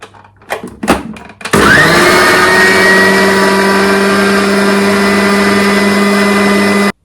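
An old food processor blends fresh pesto, starting after a few brief knocks into a loud, steady motor whine that holds evenly and then cuts off abruptly.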